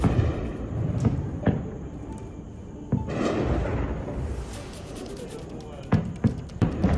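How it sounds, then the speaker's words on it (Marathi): Heavy gunfire in the R.S. Pura sector of Jammu: several sharp bangs crack out at irregular intervals, some in quick succession, over a noisy background with voices. "जम्मूतल्या आर एसपुरा सेक्टरमध्ये जोरदार गोळीबार हा बघायला मिळतो"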